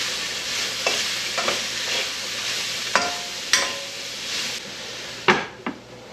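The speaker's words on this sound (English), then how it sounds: "then we'll throw in the cabbage and the mushrooms, and we'll do this for about 5 minutes" Cabbage and mushrooms stir-frying in a hand-made wok, a loud steady sizzle broken by repeated scraping strokes and tossing knocks of the utensil against the metal, close up with no voices.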